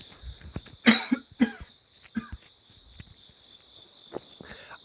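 A person coughs in a few sharp, separate bursts, close and fairly loud, with quieter throat noises and small knocks in the gaps over a faint steady hum.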